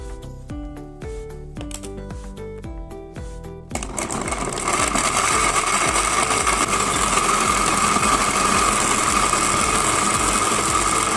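A blender whirs steadily at full power, blending dates, almonds, cashews and a glass of fresh milk into a shake. It starts after a few seconds of music and runs loud and continuous to the end.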